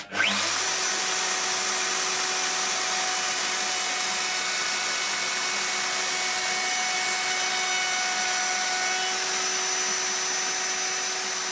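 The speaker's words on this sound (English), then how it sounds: "I can make the final finish cut with a flush trim bit and a router." A router fitted with a flush trim bit cuts handholds into Ikea shelf panels, a loud, steady high-pitched whine that starts abruptly and holds evenly throughout.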